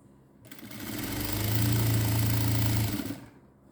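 Sewing machine stitching a pant, motor whirring up to a steady hum for about two seconds and winding down, close and clear with no talk.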